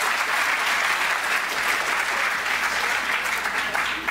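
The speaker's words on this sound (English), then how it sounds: "let's take this opportunity now to applaud all of these entities" An audience at a CUEtalks event claps loudly and continuously, a dense, even roar of many hands with no break.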